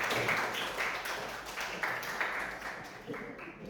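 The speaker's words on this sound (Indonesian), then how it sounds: "Beri tepuk tangan untuk Dimas." A classroom group applauds a student named Dimas, scattered hand clapping that stays fairly faint and fades gradually over a few seconds.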